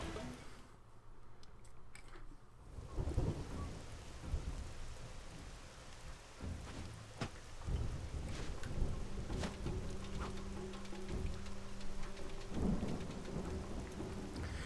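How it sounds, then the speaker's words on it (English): Steady heavy rain pours in Xenoblade Chronicles X, with rolling thunder rumbling throughout the continuous downpour. "hopefully it'll still be raining by then"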